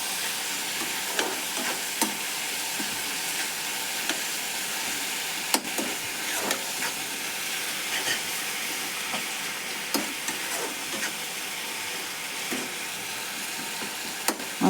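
Carrot halwa with sugar being stirred in a pan, a steady sizzle of cooking with repeated scraping strokes of the spoon against the pan throughout, close and continuous with no talking.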